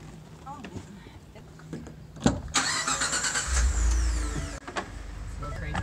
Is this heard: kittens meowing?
no